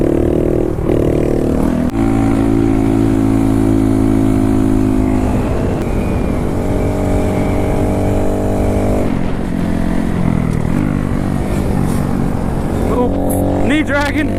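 A Honda Grom motorcycle rides hard around a motocross track, its small engine droning loud and close with shifting pitch as it revs and eases, then climbing sharply near the end.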